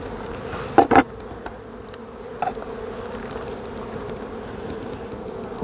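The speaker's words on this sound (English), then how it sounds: "And the bees are up here just chewing away on it." Honeybees inside a hive on an early spring check, where they have been fed extra sugar, give a low, steady buzzing hum, faint and continuous, with a few brief louder knocks near the start.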